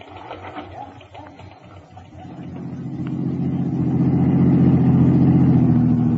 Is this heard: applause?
no